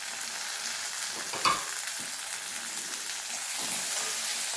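Capsicum and tomato with moong sprouts sauté in a pan over a medium flame, a steady close sizzle and hiss with a brief stirring scrape partway through, no voices.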